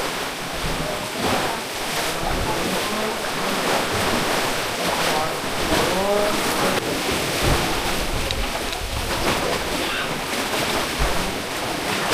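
Loud, continuous surf of strong ocean waves crashing and washing ashore in Boracay, Philippines, with wind buffeting the microphone and a few faint voices in the background.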